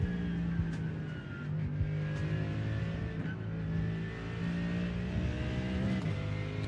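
Mercedes GT3 race car in the iRacing game, its engine whining in sustained tones that rise and fall with throttle as the car laps, heard fairly quietly and without talk.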